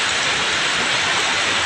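Steady rain falls across an outdoor used car market in the early evening, a dense, even hiss that fills the short moment without a break and with no voices.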